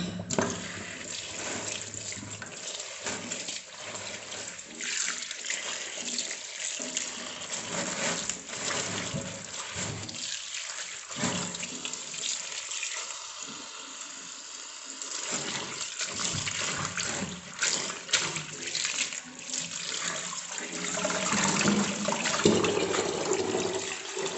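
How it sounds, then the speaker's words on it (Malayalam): Mixed leafy greens, among them Mysore spinach and sambar spinach, are washed under a running tap. Water gushes and splashes steadily, with uneven rushes and brief drops as the leaves are handled. "എല്ലാം കൂടെ കഴുകാം"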